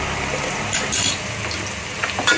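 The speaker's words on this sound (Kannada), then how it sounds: "ಉದ್ದುದ್ದ ಕಟ್ ಮಾಡಿದ ಈರುಳ್ಳಿ ಇದು ಅನ್ನಲ್ಲೇ ಹುರ್ಕೋಬೇಕಿದೆ" Sliced onions and cumin seeds frying in a pan for jeera rice, a steady low sizzle with a few brief scraping stirs and clinks.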